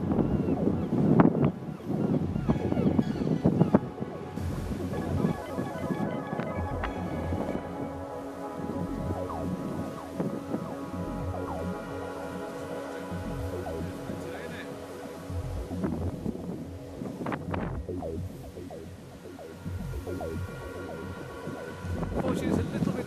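Strong wind buffets the microphone at a coastal gorge in Crawton nature reserve near Stonehaven, Scotland, a loud continuous roar and rumble throughout, with a voice talking over it.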